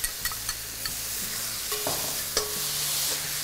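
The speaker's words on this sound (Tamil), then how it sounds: "இந்த ஸ்டேஜில் நான் இங்கே அந்த மூணு தக்காளியும் ஆட்" Three tomatoes go into golden-brown frying onions in a pan, giving a few sharp clatters and splashes followed by a steady sizzling hiss, close and fairly quiet.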